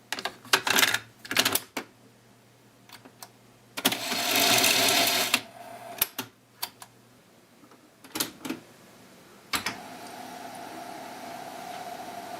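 Keys clatter on an Amstrad CPC464 home computer keyboard as a short BASIC program is typed, in irregular bursts of clicks and a few longer runs separated by pauses, close and fairly loud, with a faint steady hum behind.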